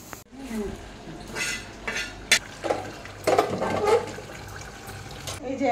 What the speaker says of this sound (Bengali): হাঁড়িতে দিয়ে এবার একটু অল্প অল্প ভাত দিতে থাকবো